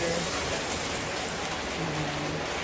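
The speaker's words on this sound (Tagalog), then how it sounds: "Umuulan lang po kaya sa naririnig ay pagpatak ng ulan." Steady rain pattering down outdoors during home cooking, a constant broadband hiss with no talking over it.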